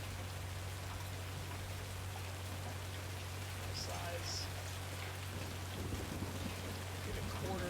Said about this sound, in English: So we got some hail, some pretty decent hail.